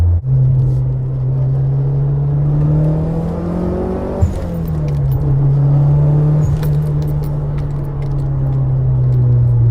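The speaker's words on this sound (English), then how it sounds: "this is the 3S GTE engine" A Toyota 3S-GTE turbocharged engine in a modified Celica All-Trac idles with a steady low drone, then revs up and settles back a couple of times, with faint clinks nearby.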